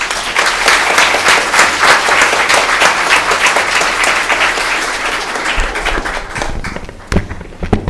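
Audience applause after a lecture at a family and succession law book launch: dense, loud, sustained clapping from a crowd, thinning toward the end with a few scattered final claps.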